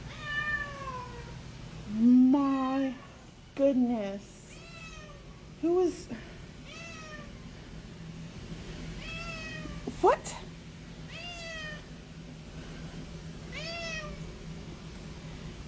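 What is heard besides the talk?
cat meowing loudly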